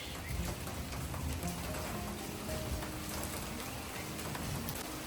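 Heavy storm rain pours steadily in Pakistan, a dense constant hiss with drops pattering on surfaces, with no voices.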